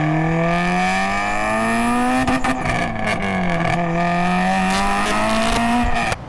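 A car fitted with a cheap eBay exhaust revs hard under boost, its engine note droning loud and close, with a raspy exhaust tone that rises and dips across a few seconds before cutting off abruptly.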